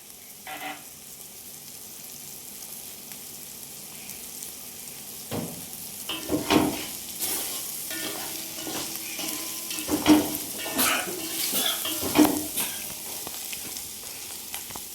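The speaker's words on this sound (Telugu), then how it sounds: "కొంచెం వేగిన దాకా మనం చూసుకొని తర్వాతకి తాలింపులోకి వాటర్ యాడ్ చేసుకుంటాం" Spices fry in hot oil for a tempering as coriander powder goes in, producing a steady sizzle that grows busier partway through, with stirring scrapes and louder crackling bursts, no talking.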